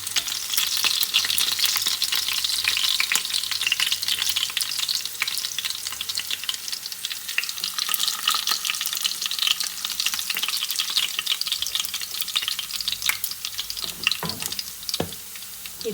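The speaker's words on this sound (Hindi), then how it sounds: "अब दूसरे भी फ्राई कर लेंगे हम लोग।" Chicken gilafi kebabs fry in a pan of oil, a dense, steady sizzle close by with bursts of crackling and a few scraping clinks near the end, with no talking.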